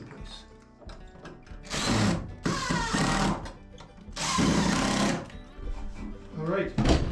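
Power drill driving a couple of screws to hold a box in place during a camper modification, two loud whirring bursts around mid-clip with someone talking before, between and after.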